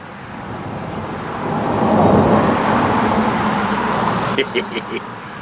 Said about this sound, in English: you're fixing to hear a car come by. Here it comes.